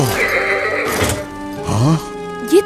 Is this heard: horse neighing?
yes